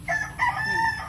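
Hens kept in a battery-style breeding cage, some already laying, let out clear clucking calls with a rooster-like crow, a few close bursts over steady low farmyard noise.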